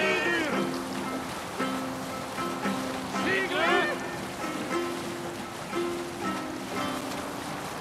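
Viking longship sailing across sea waves in Assassin's Creed Valhalla, steady surf and wind washing beneath a crew's chanted singing that rises and falls throughout.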